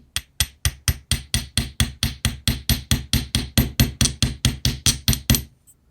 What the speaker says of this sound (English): So then I have this steel block. I work hard in the wire by hammering it.